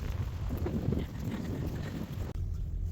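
Wind blows and buffets the microphone outdoors on a cold day, a steady low rumble that cuts off abruptly near the end.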